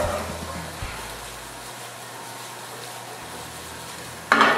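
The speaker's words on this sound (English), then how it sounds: "Go ahead and just drop that right into the oil. Now I'm going to go ahead and give that a little saute." An ingredient sautés in hot oil, a steady low sizzle that runs throughout, ending in a brief louder burst of clatter or movement in the pan.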